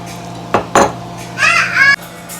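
A spoon clinks twice against a pot, then scrapes and swishes while yogurt is stirred into deghi korma. The sounds are short, close and crisp over a steady low hum.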